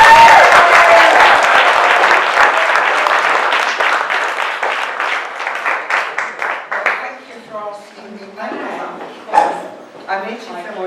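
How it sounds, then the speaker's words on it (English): An audience at a storytelling event gives a big round of applause, loud and dense at first, then thinning out into scattered claps and murmuring voices. "Give her a big round of applause"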